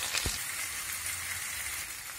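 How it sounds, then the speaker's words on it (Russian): A steady, soft sizzle of potatoes and onion frying in a pan over high heat, a continuous crackling hiss with a brief knock near the start. "Теперь лук, пару минут с луком обжарим"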